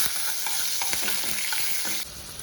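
Spices crackling as they are tempered in hot oil for a tomato egg dish, a steady bright sizzle with soft stirring scrapes, close and continuous, easing off near the end.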